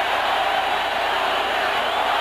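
A roaring stadium crowd of Miami Dolphins football fans, a loud, continuous, dense wall of cheering and shouting with no breaks.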